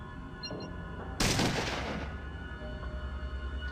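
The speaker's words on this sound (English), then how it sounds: "my high skills will allow me to shoot this dude in the eyes with a shotgun at point blank" A single loud shotgun blast fired at point-blank range in the video game Fallout, one sharp burst against a quiet background with a short decaying tail.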